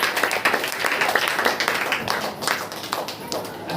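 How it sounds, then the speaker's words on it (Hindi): A church congregation at a Saturday prayer meeting claps together in praise, a dense run of fast, steady hand claps close by that carries through the whole stretch. "एक बार फिर से ताली बजाकर उसको महिमा।"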